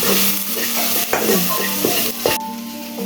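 A spoon stirs a spicy shellfish curry of large creek mussels frying in oil with garam masala; close, continuous sizzling with repeated scraping strokes against the pan.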